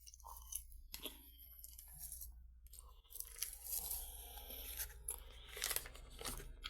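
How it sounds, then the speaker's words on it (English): Raw cookie dough mixed into ice cream being chewed up close, with moist crunching and smacking bites that continue steadily for several seconds at a moderate level, with no talking. "you end up chewing the cookie dough for a long ass time"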